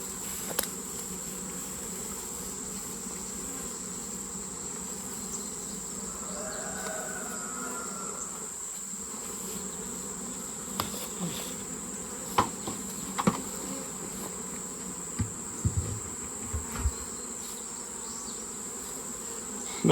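A late-summer swarm of honey bees buzzing as a steady, continuous hum outdoors, with scattered clicks and knocks of hive handling layered over it.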